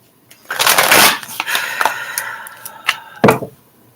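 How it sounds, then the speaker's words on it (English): An oracle card deck being shuffled by hand, a close run of dry papery riffles and slides with a few sharp card taps, heard alone. "shuffling up the Work Your Light Oracle."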